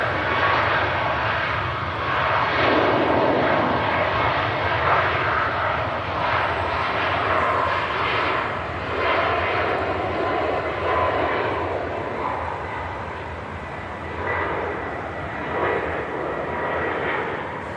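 An airliner takes off at Manchester Airport, a broad, sustained engine roar heard from a distance that holds steady and slowly eases, with no speech.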